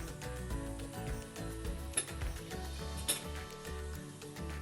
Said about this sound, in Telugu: ఇలాగ నెమ్మదిగా వేయించుకుంటూ గోల్డెన్ బ్రౌన్ వచ్చే వరకు వేయించుకోవాలి.